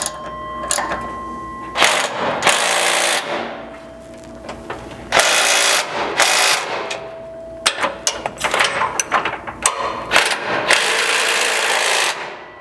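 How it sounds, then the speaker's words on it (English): A wrench tightens bolts on a rear bumper bracket of a 4th-gen Toyota Tacoma, giving bursts of rapid ratcheting clicks separated by short pauses, close and fairly loud. "You'll need just the wrench out here on these 3 vertical fasteners."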